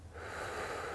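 A slow, controlled exhale of breath during a guided breathing exercise, soft and close with a faint airy hiss and a slight wheezy texture, alone without speech.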